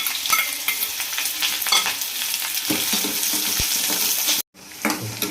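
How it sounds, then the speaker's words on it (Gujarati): Onions frying in hot oil in a pan, with cumin already added, stirred continuously for a Gujarati chavanu curry; a steady close sizzle and scraping runs throughout, broken by one brief silence near the end. "હવે એની અંદર આપણે ડુંગળી નાખી અને સતત હલાવતા રહેશું"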